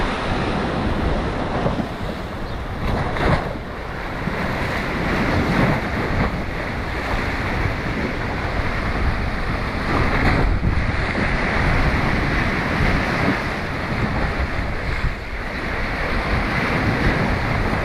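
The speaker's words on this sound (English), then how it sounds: "Oh, here comes some waves." Ocean surf breaks along a Hawaiian shore in a steady, loud wash of roaring water, with wind buffeting the microphone and surges swelling every few seconds; no voices.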